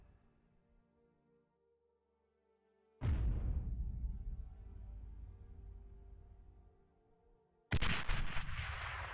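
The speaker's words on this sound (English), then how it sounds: "Looks like he's got some mortar bots now." Mortar fire from mortar bots in a strategy video game: two sudden, loud booming blasts several seconds apart, each followed by a rumbling decay, with no voices.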